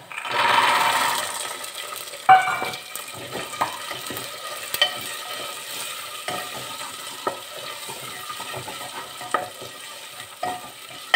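Dried peas are added to roasted masala in a pan, opening with a brief burst of noise, then light frying and repeated spoon scrapes and taps at irregular intervals, with no talking.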